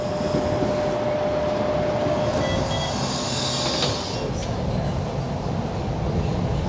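A Sheffield Supertram rolls along with a loud, continuous rumble and hum, a faint metallic squeal rising briefly midway.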